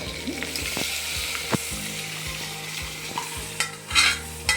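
Smashed ingredients for palak sambar fry in a pan with a close, crackling sizzle, broken by sharp clinks and scrapes of stirring, loudest near the end.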